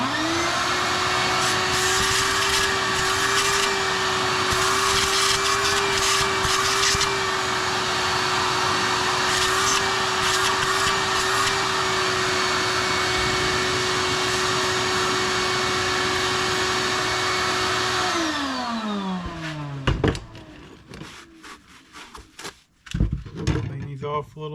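A shop vacuum whines steadily while cleaning out a power steering box during hydro assist tapping, then winds down near the end, followed by scattered clanks and handling noises.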